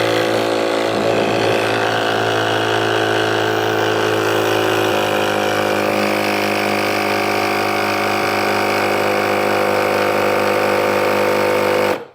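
A Dewalt 20V cordless tire inflator runs continuously while pumping a bike tire up to 40 PSI, giving a loud, close, steady mechanical drone whose pitch shifts partway through before it stops abruptly at the end.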